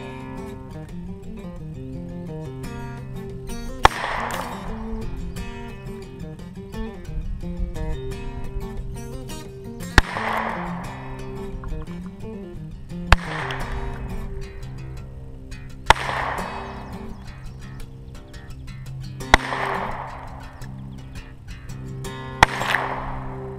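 A Ruger Single Six .22 revolver fires six sharp, loud shots spaced a few seconds apart, each with a short decaying echo over a steady background hum.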